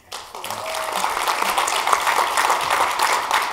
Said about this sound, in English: a special round of applause for our guests, Robert Stone,